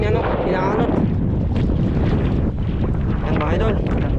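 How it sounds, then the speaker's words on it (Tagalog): Strong typhoon wind roars and buffets the microphone continuously on a fishing trip, with a rushing, gusty texture over engine-like rumble; a voice is faintly mixed in. "Hindi na namin talaga kaya yung hangin."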